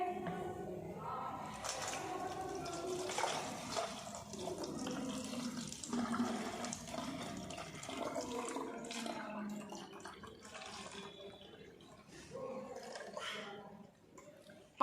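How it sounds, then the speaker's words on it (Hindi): Water pours into a bottle for a simple kids' science experiment, a faint, irregular splashing and gurgling trickle that keeps going for several seconds without speech. "पहले हम बोतल में पानी डालेंगे।"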